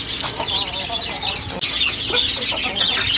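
Native country roosters and chickens cluck and chatter continuously at close range on a rooftop terrace, several birds overlapping in a busy din.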